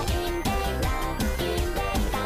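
A dense excerpt of a J-pop or J-rock song plays at full loudness, with steady drums, bass and bright layered instruments driving a continuous rhythm throughout.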